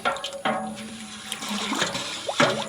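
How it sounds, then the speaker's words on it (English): Salt-laden cooking water for boiling green peanuts being stirred in a pot, a continuous sloshing, swirling water sound with a few louder splashes, close and steady with no talking. "Stir it around."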